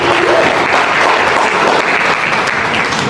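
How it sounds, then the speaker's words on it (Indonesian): A room of university students gives a steady, dense round of applause for a student presenter, continuous clapping at even loudness throughout. "Kita kasih aplaus buat Kak Yanti"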